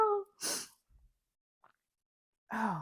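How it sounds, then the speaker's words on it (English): A single sharp sneeze bursts out close to the microphone between bits of speech, followed by a brief quiet and a faint sniffle before talking resumes. "I usually don't sneeze unless there's pepper in the area."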